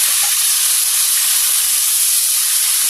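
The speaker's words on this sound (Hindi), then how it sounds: "अब हम इसमें खड़ा गरम मसाला जो है वो डाल देंगे और इसको भी फ्राई होने देंगे अच्छे से" Whole garam masala spices fry in hot oil in a pan with a loud, steady sizzling hiss that holds without a break throughout.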